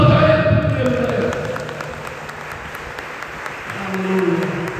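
A church congregation claps through a worship service, steady applause filling the room alone at moderate loudness, with no voices over it.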